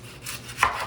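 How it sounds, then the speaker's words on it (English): A knife chops through the ends of an onion on a cutting board, two quick, close thuds about a third of a second apart, the second sharper and louder. "the way I start with the onion is I cut off both ends"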